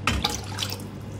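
Water pours into a pan from a measuring cup in a home kitchen, a short, close splashing trickle with a few bright drip sounds.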